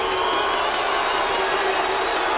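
A basketball arena crowd at a 1998 Lakers playoff game against the Jazz roars steadily, a dense, loud wall of cheering and shouting that holds without a break.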